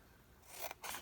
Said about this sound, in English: Go through and clean off both of my scissors today